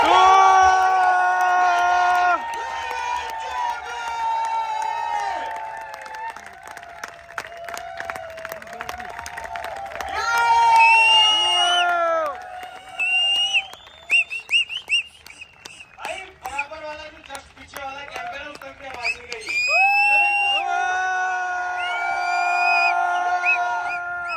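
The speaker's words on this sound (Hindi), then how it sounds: "आप लोगों की जोरदार तालियों के बीच" An audience rises in a standing ovation at a motivational event, with clapping and cheering alongside loud whoops and shouts. Amplified voices and music-like tones run prominently over much of it.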